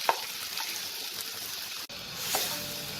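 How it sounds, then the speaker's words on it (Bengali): Potatoes fry in hot oil with a steady, close sizzling hiss, and a spoon stirs them gently now and then. "এই আলুটাকে আমি একটু তেলে হালকা নাড়াচাড়া করে নেব।"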